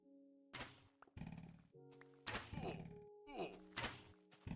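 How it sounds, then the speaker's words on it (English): Skeleton arrows striking in Minecraft, a series of sharp, gunshot-like thunks landing roughly every half second, each with a short ringing tail, loud and close. "It doesn't help that the arrows sound like gunshots."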